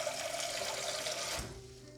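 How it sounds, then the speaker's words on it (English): A bright rushing stream of water pours into a pan on a stove, loud and continuous before cutting off abruptly, leaving a faint low hum. "So I'm gonna turn on the pan here, the stove, whatever, and add a little bit of water in."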